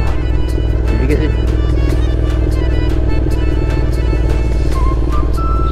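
Honda NC750S DCT motorcycle held in second gear on Honister Pass in the Lake District, its engine a steady, unbroken low drone under continuous road and wind rush for the whole stretch.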